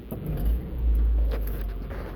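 A car travels along a highway past a quarantine checkpoint, its low road rumble and engine hum steady and close, swelling slightly mid-way with a faint rev.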